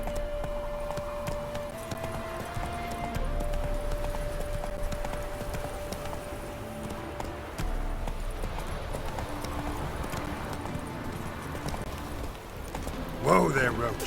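Geralt's horse Roach gallops in The Witcher 3, steady clip-clop hoofbeats running through the whole stretch beneath a layer of game music, with a brief brighter burst near the end.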